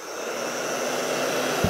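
A hair dryer or heat gun on a low setting blows steadily as it warms Sno-Seal waterproofing wax into leather, giving a continuous close airy whoosh with a faint hum throughout.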